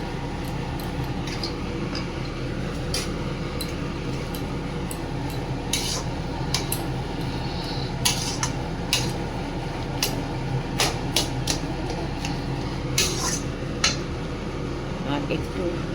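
Mashed leftover potato curry is stirred and fried in a pan, with repeated sharp scraping clinks of a spoon against metal over a steady sizzle and kitchen hum, while a person speaks throughout.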